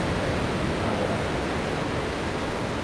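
Recorded ocean surf played as background during a morning yoga flow class, a steady broadband wash of waves that stays even and fairly loud for the whole stretch, with no talking over it.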